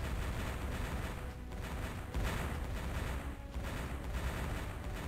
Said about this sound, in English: Gonna do a little bit scoot and shoot micro here with our tank.